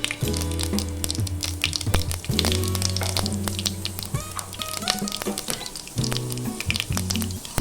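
Mustard seeds and chana dal fry in hot oil for a Kongunadu chicken gravy, giving a steady close sizzle with scattered crackles and pops, while tonal background music plays through.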